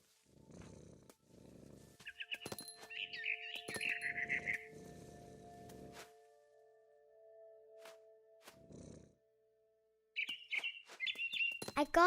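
Short high bird chirps and tweets from the adventure game What Remains of Edith Finch come in scattered bursts over soft low rustling and quiet gaps.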